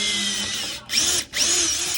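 A power drill whirs loudly in two bursts while a front bumper is installed on an Infiniti G35, briefly dropping out between them, the motor's high whine rising as it spins up again.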